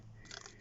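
Scissors snip through a leftover die-cut cog scrap in a single short crunchy cut, close and fairly quiet with no other sound around it.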